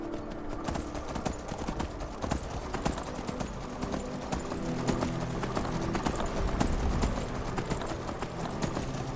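Horse hooves in Skyrim SE: a steady clip-clop of hoofbeats on hard ground, fairly close and continuous, layered over a low background hum with faint ambient noise, no voices.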